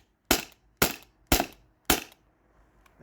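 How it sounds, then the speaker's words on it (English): Four sharp shots crack out from a modified Sabre 68 airsoft gun running on HPA through a remote line, evenly spaced about half a second apart, each with a short decaying tail, then quiet. "That was 7 shots."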